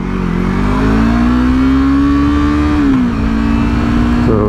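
A car accelerating loudly from inside the cabin, engine pitch climbing steadily, dropping sharply at a gear change, then rising again as it pulls into the next gear.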